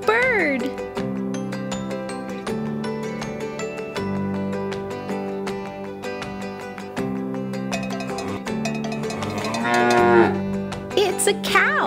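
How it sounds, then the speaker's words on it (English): A Fisher-Price Learn & Play toy sounds a cow's moo, set within a busy electronic toy melody with bright tones that runs steadily through the whole stretch. "It's a cow"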